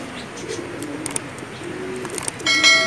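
Healthy pet pigeons kept for sale coo in low, rolling phrases that repeat steadily close by, with a faint bell-like ring and soft chirps rising near the end.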